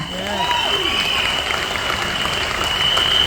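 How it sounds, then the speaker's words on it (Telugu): An audience at a stage meeting claps together in a steady, sustained round of applause that fills the room throughout, with a faint voice or two underneath. "క్లాప్స్ కొట్టొచ్చా లేదా?"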